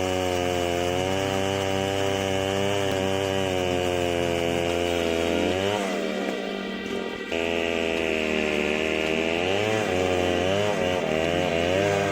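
A giant chainsaw cuts through a 3-ton log, its engine roaring loud and steady with a sharp pitch change midway as the load shifts, then settling back into a continuous whine.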